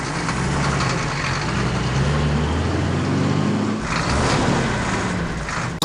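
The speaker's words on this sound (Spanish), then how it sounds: "Se trata del autobús escolar, el que los lleva todos los días a la escuela." A school bus engine idles in a steady, loud low rumble that holds for several seconds, with a faint clunk at the very end.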